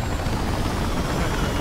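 A transport helicopter in the video game Battlefield Hardline, a dense, loud, close rotor and engine roar with steady low thumping, heard alone.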